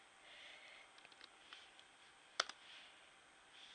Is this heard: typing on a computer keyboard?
yes